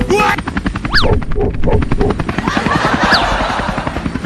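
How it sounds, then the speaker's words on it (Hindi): A loud, rapid cartoon helicopter rotor chop runs throughout, with quick whooshing sweeps and faint voices underneath. "चिंटुआ थोड़ा सही से उड़ा हेलीकॉप्टर, मुझे बहुत डर लग रहा है।"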